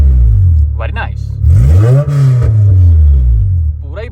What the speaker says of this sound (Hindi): अब गाड़ी को रेस रूस दे के चेक करते हैं कि हमारा आरपीएम मीटर सही तरीके से काम कर रहा है